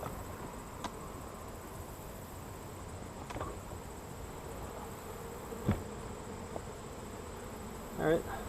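Honeybees buzz at an open beehive during a late-August brood chamber inspection, a steady soft drone with a few individual bees flying close past the microphone.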